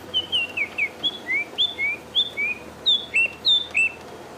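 A bearded robin sings a run of about a dozen clear, lilting whistled chirps in an even rhythm, close and distinct over quiet outdoor background.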